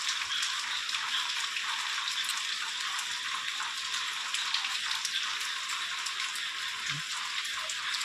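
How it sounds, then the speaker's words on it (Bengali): Heavy rain pours down steadily and close, a dense constant hiss with scattered drop impacts, no voices, while someone is out walking home and getting soaked. "এখন প্রচণ্ড বৃষ্টি হচ্ছে"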